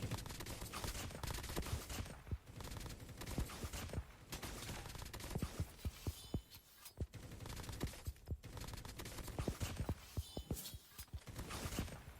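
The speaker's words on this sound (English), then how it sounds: "So I can shoot, you see, can shoot automatically." Automatic gunfire in the mobile shooter game Call of Duty Mobile: dense, continuous bursts of rapid shots with sharp cracks, loud and up close, running almost unbroken throughout with brief pauses between strings.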